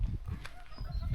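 Chickens and a rooster cluck in repeated bursts close by, a steady farmyard chatter running the whole time in Bulgaria.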